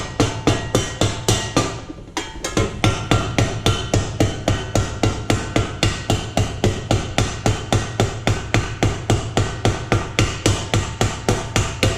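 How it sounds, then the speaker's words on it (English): Rapid, regular strikes of a ball peen hammer on metal ring out close by, attaching a hinge, a long even series of blows with a brief pause near the start. "So you're slowly hammering around this."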